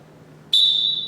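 Futsal referee's whistle, one loud, sharp shrill blast that starts abruptly and holds steady over a faint low hum.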